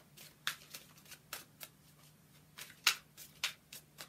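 Tarot cards being shuffled and handled by hand: soft, close riffles and snapping flicks in scattered bursts against a quiet room, with no speech.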